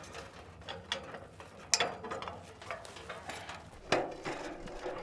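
Fittings on a standard fog collector are tightened by hand, giving a string of close, uneven metallic clicks and ratcheting scrapes with a couple of sharper clanks.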